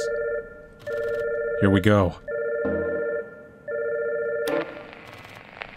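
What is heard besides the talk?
phone ringing in video game Catherine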